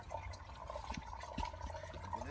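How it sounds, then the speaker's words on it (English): Greywater from a shower running through a filter feeder pipe into a filter in a DIY shower-to-lawn system, a faint continuous trickling and gurgling with soft irregular drips and splashes close by. "This is your, we call the filter feeder pipe going into the actual filter right now. You can actually hear it."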